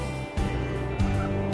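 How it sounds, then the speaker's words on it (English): A bantam chicken on an urban homestead makes a couple of close, low throaty calls, clear and alone with no talk over them. "She's one of our bantam chickens."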